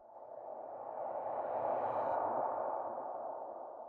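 A smooth, swelling whoosh of reversed reverb taken from a male lead vocal in a song mix builds and fades over a few seconds, a breathy vocal wash with no clear words.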